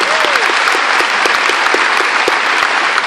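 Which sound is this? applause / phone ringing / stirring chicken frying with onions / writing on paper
applause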